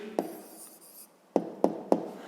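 A student writes an answer by hand for a fifth-grade math exercise: a soft scratch of pen on paper followed by three sharp, evenly spaced taps, close and quiet with no talking.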